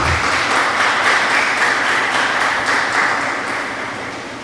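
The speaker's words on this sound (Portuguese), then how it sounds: "Vamos aplaudir esse Papa tremendo" An audience at a Divine Mercy gathering applauds the Pope with a steady wash of clapping that slowly fades toward the end.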